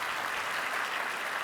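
Continuous audience applause at a SXSW talk, a dense even wash of clapping from a large crowd, sustained and moderately loud with no voices on top.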